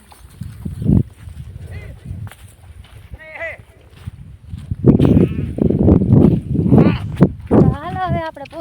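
Goats bleat on a farm among livestock, a few wavering cries rising over steady nearby talking and rustling.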